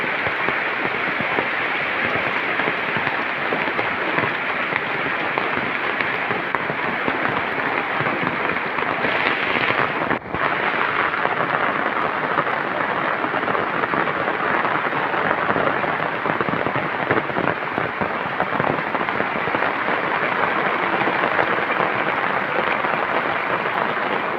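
Heavy rain drums on a tin roof in a Bangladeshi village, a loud, dense and unbroken clatter that holds steady throughout with no talking.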